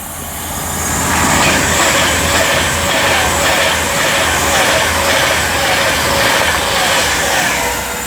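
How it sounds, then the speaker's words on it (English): Pendolino electric train passing on the West Coast Main Line at Marston Green, a loud close rushing roar with rhythmic wheel clatter, swelling after the first second and holding steady throughout, no voices. "It's another Pendolino."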